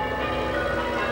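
Church bells in the Irish village of Ballykissangel ring steadily and close, a sustained metallic tone with rich overtones filling the whole moment without voices.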